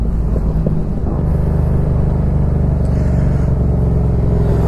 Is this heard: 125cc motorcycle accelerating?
yes